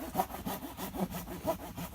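A hand saw cuts a thick hinoki cypress trunk outdoors at a campsite, making quick, regular back-and-forth rasping strokes close by.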